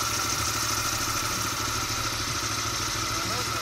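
A nearby motorcycle engine runs at a steady idle, throbbing and clattering with constant vibration throughout.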